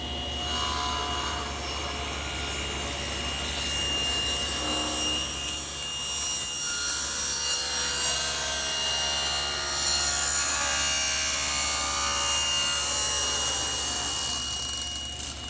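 A table saw fitted with a taper jig cuts tapered wooden legs for a bedside table, giving a steady, loud whirring rasp that holds for the full stretch with no talking.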